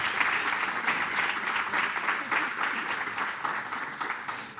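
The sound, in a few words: audience applause at a conference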